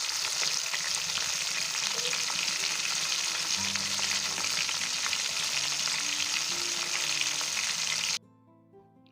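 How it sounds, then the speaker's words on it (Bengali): KFC-style chicken pieces deep-frying in hot oil give a loud, steady sizzle with faint clinks of stirring, then cut off abruptly near the end. "আস্তে আস্তে ভেজে নিব সবগুলা"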